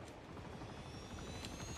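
A helicopter in Uncharted 2, a faint, steady rotor chop with a droning engine, continuous and fairly distant, with no voices.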